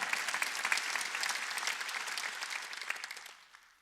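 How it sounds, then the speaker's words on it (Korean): A church congregation at a Wednesday worship service breaks into applause, and the dense, fairly distant clapping rises, holds, then fades out toward the end. "박수 치라 이게야"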